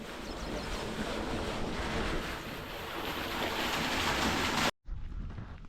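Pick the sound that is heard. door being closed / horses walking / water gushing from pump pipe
water gushing from pump pipe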